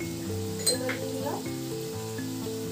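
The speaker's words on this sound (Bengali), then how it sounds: "মশলাটা 1-2 মিনিট ভালো করে কষিয়ে নেব" Spice paste sautés over raised heat in a pan for a bele fish bhuna curry. A bright, continuous sizzle plays beneath steady background music, with a few brief spoon scrapes.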